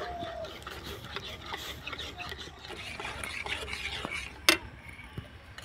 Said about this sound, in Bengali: এবার অনাবর্ত নাড়াচাড়া করে একটা ডোয়ের পরিণত করে নিতে হবে।